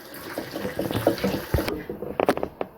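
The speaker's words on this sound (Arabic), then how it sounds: "هغسله بقى وارجع لكم." Tap water runs and splashes over cauliflower being washed in a sink, an irregular spattering stream that breaks off briefly, then returns in short bursts.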